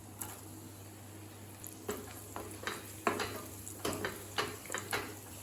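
Raisins and cashews frying in ghee for sweet pongal, a soft sizzle under repeated scraping stirs of a spoon against the pan, coming in short irregular bursts.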